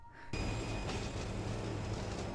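A train in motion in a narrated film, heard as a steady, loud rumble of rolling wheels and carriage noise that starts abruptly and continues without a break, with faint high tonal squeals above.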